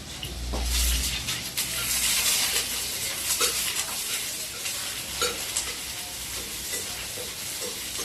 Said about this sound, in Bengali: হাতে দিয়ে দিলাম পেঁয়াজ, রসুন, মরিচ, নাড়াচাড়া করে দিব।